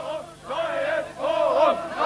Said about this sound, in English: There was a confused melee in which demonstrators shouted New Forum